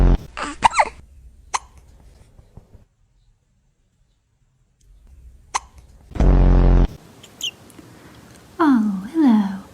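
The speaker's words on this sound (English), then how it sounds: "Have you got hiccups?" A cat hiccups indoors: a few short, sharp hiccup bursts close by, set apart by quiet gaps, with a voice speaking softly in between and a brief rustle midway.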